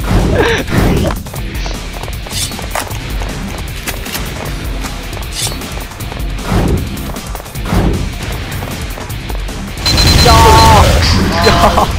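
Rapid bursts of first-person shooter gunfire crackle and boom repeatedly, with crashes and a louder barrage near the end.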